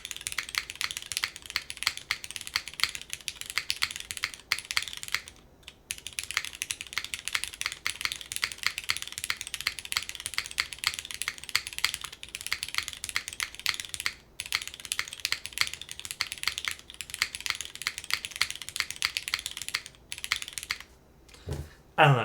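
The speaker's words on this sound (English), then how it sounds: "I feel like every O-ring build that I ever get to build in sounds good for the most part." Mechanical keyboard with an O-ring mount being typed on continuously, a close, steady patter of muted keystrokes with a few brief pauses and a louder clack near the end.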